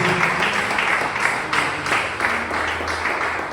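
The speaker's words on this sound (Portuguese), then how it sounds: "Irmãos, aplauda o Senhor neste momento." Congregation members at a church service clap for the Lord, a lively, uneven burst of applause close by, with a few voices murmuring underneath.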